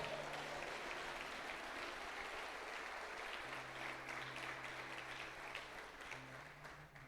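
A church congregation claps steadily throughout, a dense, sustained round of applause heard from a distance and fairly faint.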